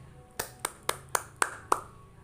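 Classroom students clap for a classmate, six sharp, evenly spaced claps ringing out clearly in a quiet room.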